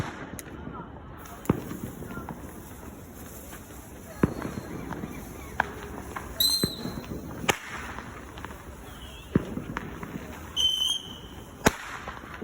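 Fireworks going off in a series of sharp cracks and bangs spread irregularly over several seconds, fairly close, with a few whistling bursts and people's voices in between.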